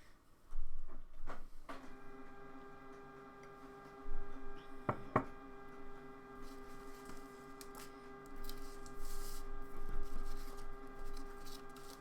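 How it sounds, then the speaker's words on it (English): A photo printer runs steadily indoors, putting out a sustained mechanical hum with clicks and a couple of sharp clunks early on. It is fairly quiet and continuous, with no talking. "Eventually the printer will stop making so much noise and I'll carry on."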